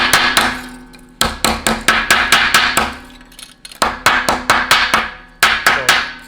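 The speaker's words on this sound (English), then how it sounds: "take a body hammer" A body hammer flattens metal panels during a BMW E39 M5 restoration in a garage, striking in quick repeated bursts of sharp ringing metallic blows with short pauses between groups, loud and close.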